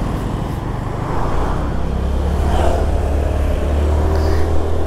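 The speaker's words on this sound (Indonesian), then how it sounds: "ini ngebut-ngebut sekali mobilnya" A car speeds past on a road in Bali, its engine noise swelling steadily as it draws near and rushes by, loud and continuous with traffic hum underneath and no talking.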